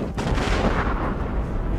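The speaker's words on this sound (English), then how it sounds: "The current vessel hurls a grenade in a 2-field range." A grenade bursts against sailing ships during a sea battle in the Port Royale 4 video game, a loud booming blast with rumbling low-end decay filling the short moment, with no talking over it.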